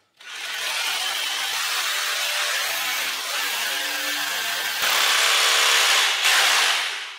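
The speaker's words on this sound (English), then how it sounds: "We got them drilled into the length of that screw." A power drill bores screw holes into a concrete wall, with a loud, continuous grinding whine that runs for several seconds, dips briefly, then rises again close by before stopping.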